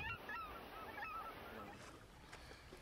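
Autumn geese honk in repeated short calls that sound distant and fairly faint, over a soft outdoor wash of wind or water.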